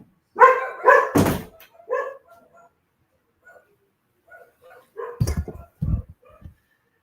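A dog, likely barking, gives a few sharp barks near the start and again near the end, close and loud, with quiet gaps between.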